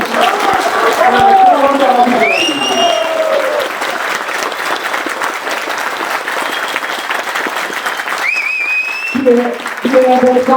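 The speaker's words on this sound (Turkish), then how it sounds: "alkış biraz güçlü olsun" A large crowd at a political gathering in Çekmeköy, Istanbul, claps loudly and continuously, with scattered voices and a couple of whistles rising above the applause.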